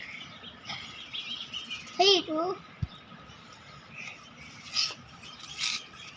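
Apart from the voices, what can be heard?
sparrow chirping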